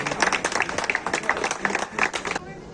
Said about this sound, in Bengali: একটু জোরে করতালির মাধ্যমে